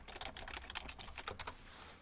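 Steady computer-keyboard typing, a quick run of key clicks entering a short series of numbers, close and fairly quiet over faint room hiss.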